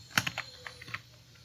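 Someone types code on a computer keyboard in MS Excel, giving a short run of faint, close key clicks in an uneven rhythm before it goes quiet.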